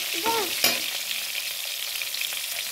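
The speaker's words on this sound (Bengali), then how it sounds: "আমি মাছগুলো এইভাবে ভেজে নিব। সব মাছটা ভাজা বসিয়ে দিয়েছি।" Pieces of katla fish fry in hot oil, a steady bright sizzle that stays even throughout, with a brief clatter near the start and a faint voice early on.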